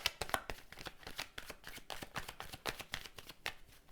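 A deck of tarot cards is shuffled and cut by hand, a rapid series of crisp riffling snaps and slaps heard close and fairly quiet, with no speech.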